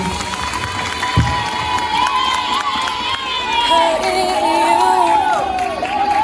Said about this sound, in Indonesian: Kita kasih tepuk tangan dulu untuk anak-anak kelas 11B